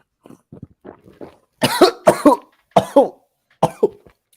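A man coughs after slurped coffee goes down the wrong way, starting with small throaty splutters that build into a series of loud, harsh hacking coughs close up.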